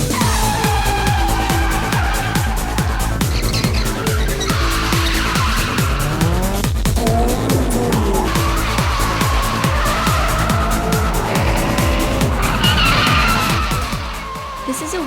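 Cars drifting at night in an Osaka harbour warehouse district, tires squealing and skidding almost nonstop under rapidly revving engines, loud and close, with the screech easing near the end.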